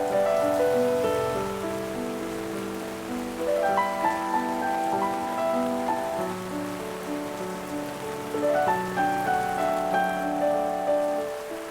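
Steady rain falls in Danang City, Vietnam, during the October rainy season, a continuous wash of drops on surfaces under a sustained tonal hum, with no voices.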